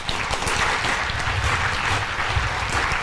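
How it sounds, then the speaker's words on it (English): Dense, steady applause from an audience at a motivational talk fills the whole stretch at an even, fairly loud level, a continuous wash of many hands clapping with no break. "You all should be motivated with a clap"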